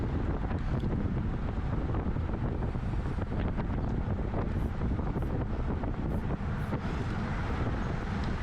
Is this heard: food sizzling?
no